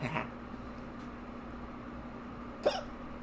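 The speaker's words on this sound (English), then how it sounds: "Little hiccups." A single short hiccup, close and fairly clear, sounding once near the end over a steady low hum and faint background noise.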